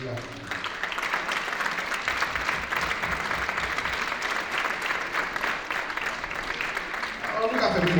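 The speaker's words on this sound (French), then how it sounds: "On applaudit" Audience applause at a community gathering honoring a 72-year-old veteran, a continuous wash of many hands clapping at an even level, with voices faintly under it and rising slightly near the end.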